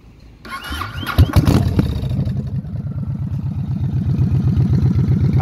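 A Yamaha Road Star XV 1700 Warrior motorcycle with a big bore build fires up during break-in: a loud starter clatter, then the V-twin catches and settles into a steady, loping idle with a rhythmic, close exhaust beat.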